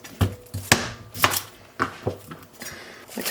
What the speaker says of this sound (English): I cut my cucumbers how I always cut them. In these little half moon semicircles.